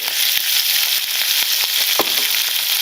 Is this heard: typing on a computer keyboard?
no